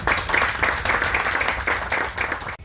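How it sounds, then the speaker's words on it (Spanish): Audience applause at a lecture on the Guanche language, a steady dense patter of clapping from a crowd in a hall that runs evenly, then cuts off abruptly near the end. "Un fuerte aplauso"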